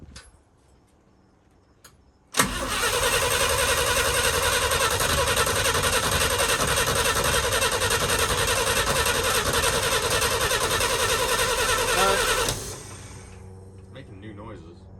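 A 1966 International Harvester 1100A with a BG 241 engine, left entombed for 24 years, cranks with a sudden loud onset and grinds continuously for about ten seconds before dropping away, with quiet voices before and after.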